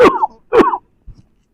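An elderly man ill with cancer coughs twice, two harsh, close hacking bursts about half a second apart, followed by a faint weak rasp in an otherwise quiet room.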